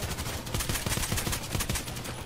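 Rapid automatic AK-971 rifle fire in the online shooter Contract Wars, a dense continuous burst of closely spaced shots throughout, loud and without talk.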